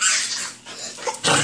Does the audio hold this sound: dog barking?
yes